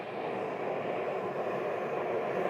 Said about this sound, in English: So these Cessna 172s, they come and go